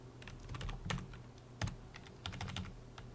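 Rapid clicking of computer keys, an uneven burst of typing with a few harder taps, close and fairly quiet with no voices.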